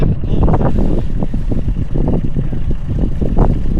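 A sailboat motoring away to heel a grounded boat over by its spinnaker halyard makes a loud, close, churning engine rumble mixed with buffeting wind noise, continuous throughout.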